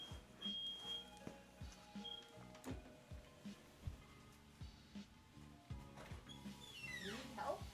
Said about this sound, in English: the fire alarm keeps going off